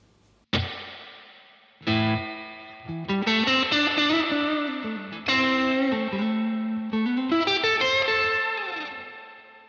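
Electric guitar played through a Universal Audio Dream '65 reverb amp with the reverb cranked all the way up, picking a few sustained chords and melodic notes that ring out and wash into a long, smooth tail, close and clear with no talking.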